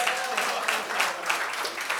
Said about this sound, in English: Now please clap for yourselves.